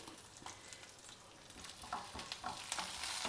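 Seven or eight garlic cloves fry in hot oil with a faint, steady crackling sizzle that grows slightly denser and busier toward the end.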